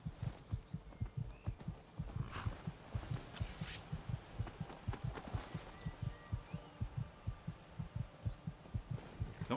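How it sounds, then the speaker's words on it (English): A steady, rhythmic heartbeat thumps throughout in the video game Skyrim, low and regular with a quick double-beat pattern, sitting under faint game ambience. "Stupid heartbeat, come on."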